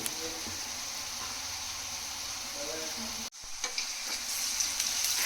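Onions cooked with salt and a little turmeric frying in a pan, a dense, continuous sizzle with stirring, cut by a brief silence before the sizzle returns louder with clattering scrapes.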